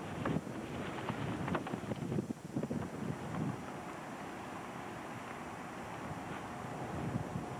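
Outdoor wind buffets the microphone in a steady, rushing roar, with stronger gusts early on and no voices.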